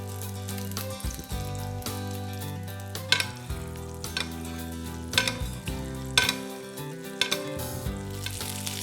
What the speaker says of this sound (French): Mon huile est bien chaude, je vais pouvoir mettre mon cabillaud.